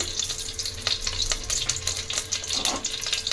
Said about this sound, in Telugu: గిన్నె పెట్టుకొని ఆయిల్ వేసేసుకొని ఆయిల్ వేడయ్యాక కొంచెం జీలకర్ర, కొన్ని ఆవాలు,